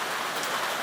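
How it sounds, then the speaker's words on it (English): Heavy rain pours down outdoors in a steady, dense hiss of drops drumming on surfaces, filling the whole moment with no voices over it. "You have to excuse the rain, it's absolutely belting down today."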